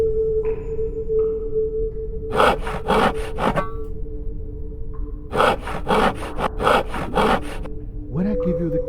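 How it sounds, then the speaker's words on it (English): In a VR video game, a small piece of rock scrapes against a stone wall in two bursts of rapid, rhythmic rasping strokes, close and fairly loud, separated by a quieter pause with a steady background tone. "If you keep scraping this small piece of rock against the stone wall, it will start catching fire."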